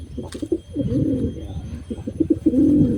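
A pet pigeon cooing at close range, several throaty rolling coos in irregular bursts, with a longer, louder coo toward the end; no talking.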